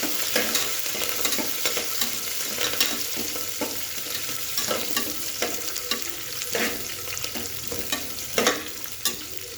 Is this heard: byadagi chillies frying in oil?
yes